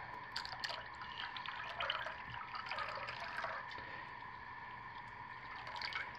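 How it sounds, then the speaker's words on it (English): Scalding hot lye water is poured into hot oils in a crock pot for hot process soap, giving a soft, steady trickle and dribble of liquid with light splashy drips throughout. "This is very hot scalding lye I'm getting ready to put in"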